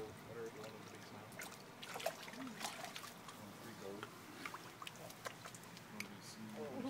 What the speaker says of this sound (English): Splashing.